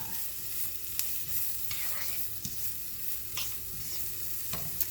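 Bell peppers and steak cooking together in a pan, a constant broad sizzle with a few sharp taps and scrapes of a utensil stirring, close and unbroken, no speech.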